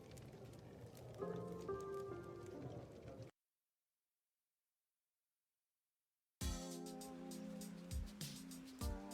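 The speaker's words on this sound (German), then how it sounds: "Oh, es regnet" Steady patter of rain falling in the game Lil' Guardsman, a soft continuous hiss broken by a stretch of total silence, then returning with faint musical tones underneath.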